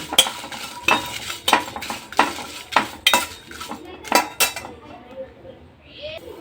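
Rice and green chillies frying in a pan for home-made puliyogare paste, stirred with a metal spoon that knocks and scrapes against the pan in a steady series of close clinks, a light sizzle underneath.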